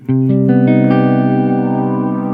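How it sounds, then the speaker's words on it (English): Electric guitar played through a Roland VG-99 effects unit with added reverb: a few plucked notes build into a loud, sustained chord that rings out with a lush, spacious tail and no talking. "Got a little bit more reverb."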